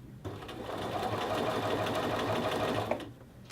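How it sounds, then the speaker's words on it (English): A sewing machine stitches a collar band onto a men's shirt in one continuous close run of about three seconds, a steady mechanical whir that starts and stops cleanly. "And then just continue sewing collar band to your shirt."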